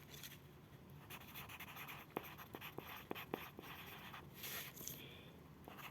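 Pencil writing on paper while solving algebra equations, a faint close scratching with several short sharp strokes and taps, quiet throughout with no talk.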